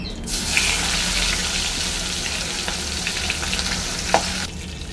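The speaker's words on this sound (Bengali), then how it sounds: "বাকি মাছগুলো আমি আস্তে আস্তে করে দিয়ে দিচ্ছি।" Pieces of katla fish fry in hot oil in a home kitchen, giving a steady loud sizzle throughout with a few sharper crackles and pops toward the end.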